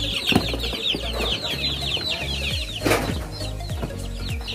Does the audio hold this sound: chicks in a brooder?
yes